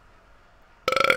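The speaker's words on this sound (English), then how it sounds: "That was a wobble burp." A loud, wobbling burp from a character in the Fall Guys game breaks in after near silence, sounding close with a rapid fluttering pulse until the end.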